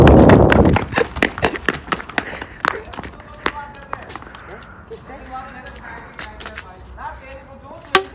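A buffalo runs across open village ground, its hooves pounding in a fast irregular rhythm that is loud and close at first, then thins out, with people shouting over it.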